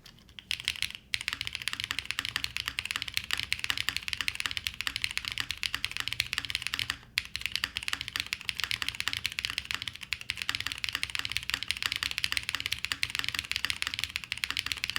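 Steady, continuous typing on a QK75N mechanical keyboard, crisp, rapid keystrokes close up, briefly pausing twice, with no voices.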